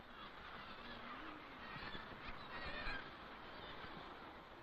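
A kittiwake colony of nesting seabirds calls on breeding ledges: a dense, continuous chorus of overlapping shrill cries, moderately loud and steady throughout, with no voices.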